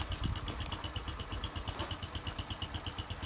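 A Postie Bike motorcycle engine idles in neutral after a fresh start with a new carburettor and air filter, a close, steady rapid putter with even pulses and faint ticking.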